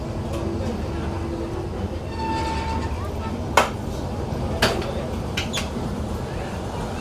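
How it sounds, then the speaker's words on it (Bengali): A commuter-style train rumbles steadily alongside at Feni junction, heard from a stopped express at a red signal, with a few sharp metallic clanks and a voice talking. "এপাশে একটি কমিউটার ধাঁচের ট্রেন দেখতে পাচ্ছি ফেনি জাংশনে"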